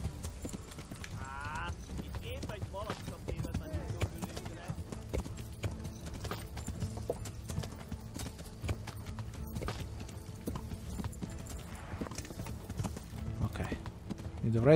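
Horse hooves clip-clop in a steady galloping rhythm in the medieval video game Kingdom Come: Deliverance, loud and continuous for the whole stretch, with game sounds around it and someone talking briefly over the hoofbeats.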